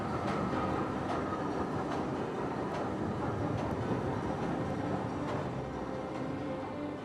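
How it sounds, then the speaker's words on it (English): Steam train pulling into a station, a loud continuous rumble of wheels with faint repeated clicks over the rails, close by and steady throughout, no voices. "in a few minutes a steam train's going to arrive here"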